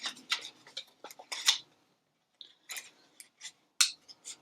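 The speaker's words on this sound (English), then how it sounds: "I'm just going to come along here with my scissors." Small scissors trim paper near foam tape in a papercraft project with a crisp series of quick snips, a brief pause, then another run of close, sharp cuts.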